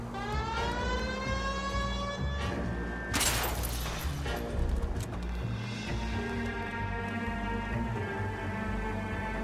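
A police car siren wails in the L.A. Noire video game, steady rising and falling tones over engine rumble, close and loud, with a brief burst of noise partway through.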